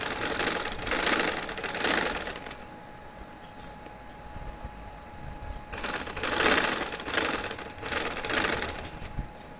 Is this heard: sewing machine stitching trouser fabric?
yes